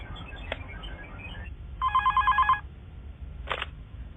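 A telephone bell rings in one short trilled burst, loud and close, amid a low background hum and a couple of brief clicks before and after.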